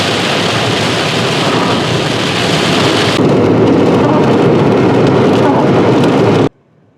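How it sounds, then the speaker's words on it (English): Heavy rain pounding on a moving car while driving into town, a dense steady hiss with road rumble that cuts off abruptly near the end. "we really definitely hit the rain on the way in there"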